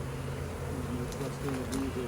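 A honey bee swarm buzzes steadily around a hive box outdoors, a dense moderate drone with wavering pitches, partly under a voice.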